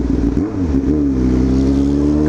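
Honda Hornet motorcycle with a modified exhaust revs hard up close, a quick blip dipping then climbing into a loud, sustained rasping roar held steady at high revs, alone without talk.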